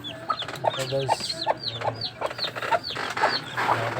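Chickens cluck in a rapid, repeated pattern with a hen close by among her chicks, sounding busy and continuous while someone speaks briefly over them.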